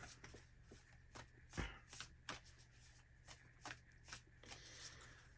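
Oracle cards from a moon deck are shuffled by hand at close range, a run of soft crisp riffles and slaps with a few louder snaps, mostly alone in a quiet room.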